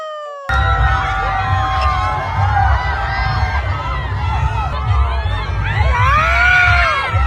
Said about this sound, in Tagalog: Grabe talaga yung hiyawan dito.